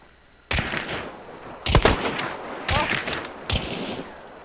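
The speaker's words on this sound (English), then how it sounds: "Getting shot at." Video game gunfire in a shootout around a house and barn: a run of sharp shot bursts at moderate distance, with a gap between volleys, amid background game noise and no talk over it.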